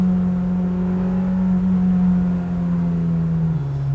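A JDM Honda Civic Type-R with a 1.8L stroker engine and Spoon parts holds a loud, close, steady high engine drone that dips slightly in pitch near the end, with no talking.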